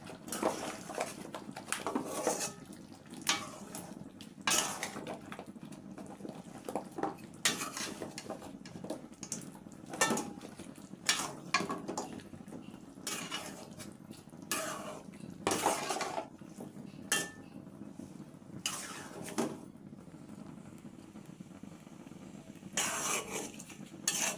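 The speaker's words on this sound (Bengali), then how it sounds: "কষানো হয়ে গিয়েছে, এখন আলু দিয়ে দিচ্ছি" Potatoes going into a pot of browned meat curry bring repeated clanking and scraping of a spoon against metal in irregular bursts, fairly close but quiet, with no speech.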